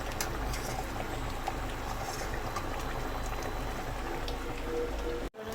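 Rohu fish curry with potatoes simmering in a pot, a steady soft bubbling and crackling hiss that continues evenly without voices, cut off abruptly at the end.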